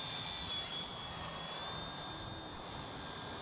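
A cheap, realistic-looking RC helicopter hovers and climbs outdoors, giving a faint, steady high-pitched motor whine with a constant tone throughout and no voices.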